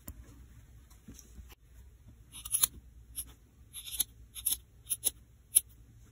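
Scissors snip felt for a crocheted gnome in a string of short, crisp cuts, spaced irregularly and heard close and fairly quiet over a faint low background hum.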